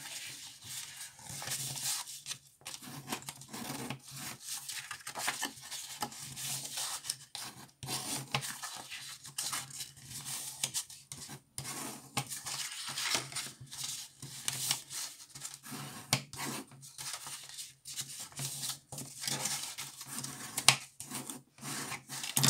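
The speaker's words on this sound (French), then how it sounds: "Je plie tout. J'écrase mes plis." Paper card being folded and its creases pressed flat while making a storage box, giving a steady run of close rubbing and rasping scrapes with brief pauses, no talking.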